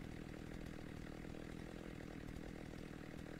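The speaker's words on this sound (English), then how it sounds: "I hear a chainsaw." A chainsaw buzzes in the Slendytubbies II video game, a continuous, steady, raspy engine drone that holds at even loudness with no talk over it.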